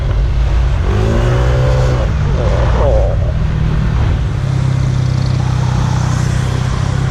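Engine of a Honda PCX 150 scooter with a modified clutch, variator bowl and exhaust, revving and accelerating up close and loud, pitch climbing in several steps under wind noise.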